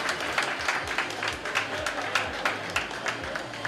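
Applause and crowd noise from a studio audience at an Italian beauty pageant finale greet a contestant, a dense steady patter of clapping with a few sharper accents throughout.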